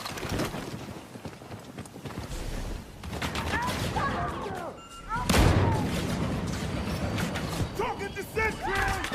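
Heavy gunfire and blasts in the Star Wars shooter Battlefront 2 beta, bursts of weapon fire and booms amid battle noise, with voices talking over the action throughout.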